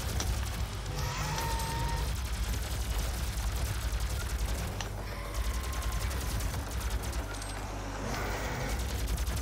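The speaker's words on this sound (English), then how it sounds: "Plasma rifle." A plasma rifle in DOOM 2016 fires a rapid, continuous stream of crackling energy shots, loud and rhythmic, amid clattering combat noise.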